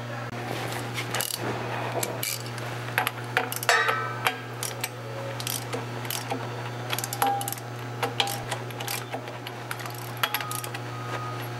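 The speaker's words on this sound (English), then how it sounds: "First with a 3/8 ratchet" A 3/8 ratchet tightens flywheel bolts on a 2004 Dodge Ram pickup with a 5.9L Cummins, giving irregular sharp metallic clicks over a steady low hum.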